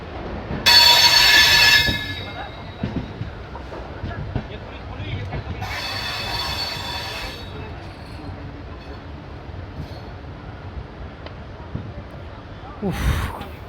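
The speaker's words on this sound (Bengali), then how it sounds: "কাঠগোদাম হাওড়া বাগ এক্সপ্রেস আমাদের সাথে হাওড়া স্টেশন ঢুকছে" Kathgodam–Howrah Bagh Express running late as it pulls into Howrah station: a loud burst of squealing wheels opens, then steady rumbling rolling noise, another shrill screech near the middle and a brief thump near the end, with talk nearby.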